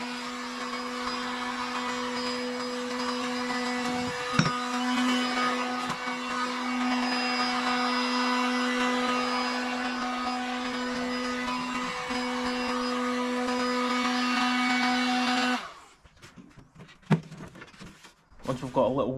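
Heat gun blowing hot air around the seam of a Fiesta ST 150 Mk6 headlight, a steady loud whirring hum with a constant tone that cuts off near the end, followed by brief handling knocks.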